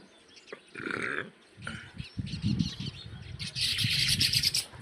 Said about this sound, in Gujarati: આમાં એને ચકલા ચણવા આવ્યા છે